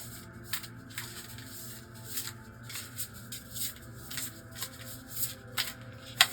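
Tarot cards being shuffled by hand: a run of soft, papery riffles and slides, about a dozen short bursts spaced roughly half a second apart, close and quiet over a low steady room hum.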